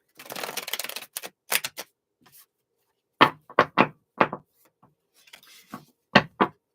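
Tarot cards from a Starseer's Tarot deck being pulled and handled: a burst of shuffling at the start, then sharp, separate slaps and taps as cards are laid down one by one, close and fairly loud, with no talk.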